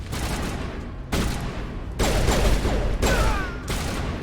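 Assault rifle fire in Mass Effect during a fight, loud, close bursts coming in distinct blocks separated by brief pauses, with a heavier stretch in the middle and no talk.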